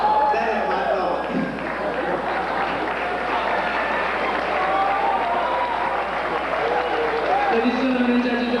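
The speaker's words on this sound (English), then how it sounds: "a big round of applause" Steady audience applause fills the room at an on-stage interview at the MGA 1995 event, with cheering voices and crowd noise mixed in throughout.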